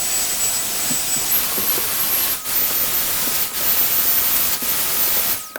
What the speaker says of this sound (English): It goes super fast with the paint sprayer.